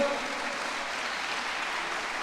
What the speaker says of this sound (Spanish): Fuertes aplausos, muchas gracias, pastor.